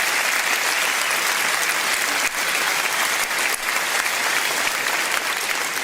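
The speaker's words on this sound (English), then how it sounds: "Round of applause for your local candidates." Rally crowd at a Reform UK event in Norfolk applauds local candidates, a loud, sustained wall of clapping from a large audience that runs unbroken throughout.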